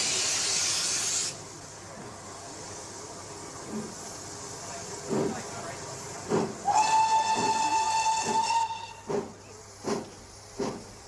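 The steam locomotive Clun Castle hisses loudly, then chuffs in slow rhythmic bursts as it pulls out of a station, with a sharp whistle sounding midway.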